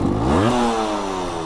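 A Yamaha TDR 125 motorcycle engine runs close and loud with an odd, abnormal noise, its pitch sliding up then settling into a steady drone with a rattling, scraping edge.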